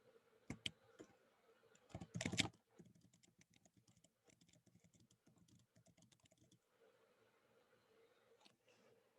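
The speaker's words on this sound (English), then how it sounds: "I'm going to finish typing mine in too." Typing on a computer keyboard during an online civics education session, with rapid irregular clicking keystrokes, a louder burst of heavier key presses early on, then a quieter stretch before sparse final taps.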